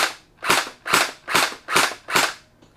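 A Splatrball toy gun firing Orbeez gel beads at a wall, five evenly spaced loud, sharp pops at close range with brief decays.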